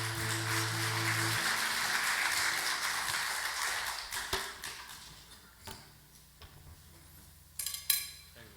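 Applause breaks out from a church audience, a broad wash of clapping that swells early and then thins into scattered claps and taps toward the end, with low tonal hum beneath.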